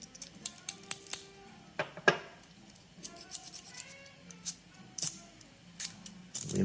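Jaws of a Knipex Pliers Wrench XS are worked open and shut, giving a run of crisp, close metallic clicks and snaps at an irregular pace.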